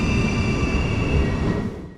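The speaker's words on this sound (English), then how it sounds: "Here comes our train now on its inbound service from Breda." An Alstom Coradia Stream ICNG five-car electric intercity train of Dutch Railways pulls in on an inbound service from Breda, a steady loud rumble of wheels and motors with a faint high whine, fading slightly at the end.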